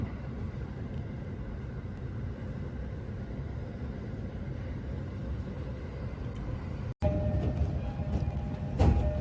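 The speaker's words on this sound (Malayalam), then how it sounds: "This is the Tokaido Line train for Hiratuka." Steady rumble of a Tokaido Line train bound for Hiratsuka, heard from inside a carriage, with continuous low rolling noise and a brief dropout before a louder stretch near the end.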